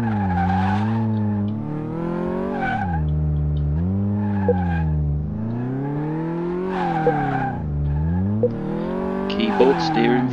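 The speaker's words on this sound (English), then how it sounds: "I wouldn't appreciate them ragging it around a test track like that" A car in Car Mechanic Simulator 2018 skids around a test track, its tires squealing in long repeated rising and falling sweeps over a revving engine, loud and continuous.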